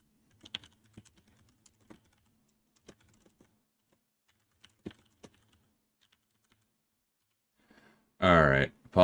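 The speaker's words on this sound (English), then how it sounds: "apologies for the typing for a quick second" Quick clicks of typing on a computer keyboard at a livestream desk, scattered sparse keystrokes and short bursts, fairly faint, followed near the end by a loud burst of other sound.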